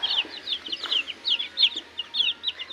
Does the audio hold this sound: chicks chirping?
yes